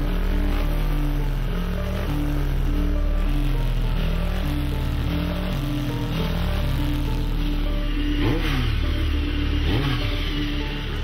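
A superbike with magnesium forged wheels and 320mm brake discs accelerating on a track, its engine a steady loud drone with rising and falling rev sweeps toward the end.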